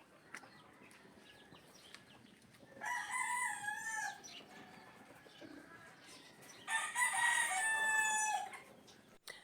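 A young gamefowl stag crows twice, long harmonic calls a few seconds apart, with soft clucking from nearby hens in between.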